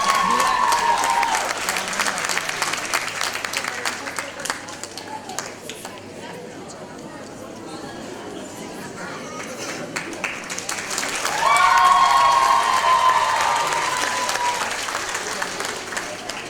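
Sustained applause from a seated audience at a primary school's 70th anniversary ceremony in Skopje, steady dense clapping that dips midway and swells again, with voices faintly mixed in.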